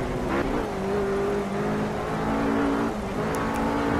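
Race car engine in the video game Project Cars, a continuous, close engine roar with pitch shifts as the driver comes on the power, a brief dip and recovery midway, alone with no talk.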